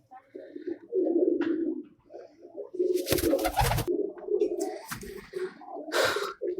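Pigeons, being fed a butter supplement, cooing close by in low, throaty bursts, with a few flutters and rustles between the calls.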